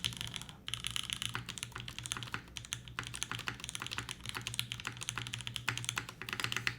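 Steady, fast typing on a custom mechanical keyboard with Emilia (Re:Zero) theming, dense clacky keystrokes running continuously at close range with no voices.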